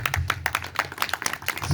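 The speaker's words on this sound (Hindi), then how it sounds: "हाँ पाजी वास्ते ताली मारना" A church congregation clapping together, with quick, fairly loud claps in a steady rhythm that are slightly uneven, close by.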